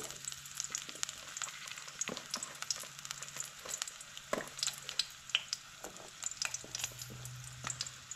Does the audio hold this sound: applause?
no